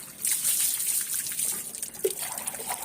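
Water is poured over a child during a bath, making a close, splashing gush and trickle that runs for a few seconds with small uneven bursts and no talk.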